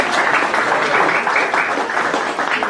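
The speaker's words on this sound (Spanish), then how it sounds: "Un gran aplauso para Frankie." An audience at a university sociology of law conference applauds, a dense, even patter of clapping filling the room for a few seconds with little else heard.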